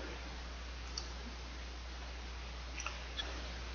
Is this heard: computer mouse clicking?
yes